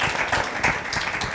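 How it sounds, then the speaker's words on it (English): Audience applause at a filmmaker forum session, steady dense clapping throughout the short stretch with no speech. "I think that deserves a round of applause."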